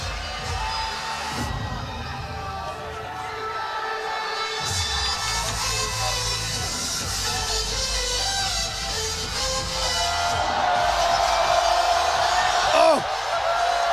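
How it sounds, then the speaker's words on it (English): Spectators at a powerlifting competition in Sheffield cheer, whoop and yell, a loud, rolling crowd roar that swells toward the end, with a commentator talking over it. "And the crowd gets to their feet"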